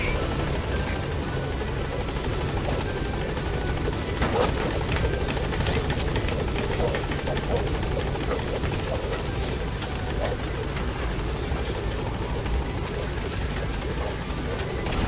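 A helicopter in Metal Gear Solid V hovers at a landing zone, a steady, loud rotor thump and turbine whine held evenly throughout with no voices.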